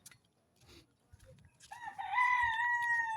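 Backyard chickens at a farm: a rooster lets out a loud, close, drawn-out crow after some scattered soft clucks and scratching sounds.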